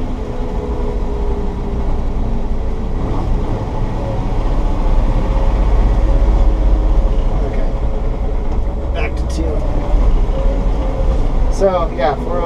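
1979 Ford F-150 Custom with a 351M V8 and four-speed, driving in four-wheel drive, heard from inside the cab as a steady low engine and drivetrain rumble with road noise, while someone talks over it.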